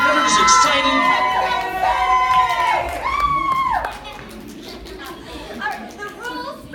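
A crowd at a surfing competition cheers and shouts loudly with high, excited voices and whoops, some clapping mixed in, then the noise fades to softer chatter.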